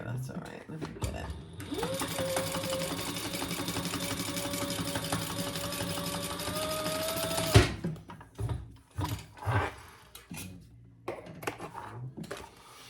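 A sewing machine bastes a bag panel in one sustained, rapid mechanical run lasting several seconds. It then stops abruptly, followed by fabric handling sounds and a person talking.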